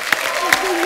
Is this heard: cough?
no